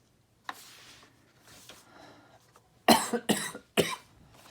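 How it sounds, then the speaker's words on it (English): Several sharp coughs in quick succession near the end, close and loud, after a stretch of quiet breathy noise. "my cough is really bad."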